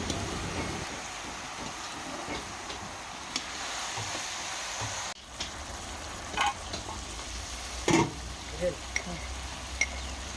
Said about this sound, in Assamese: এতিয়া মই খুব লাহে লাহে সুন্দৰকৈ ভাজি আছোঁ।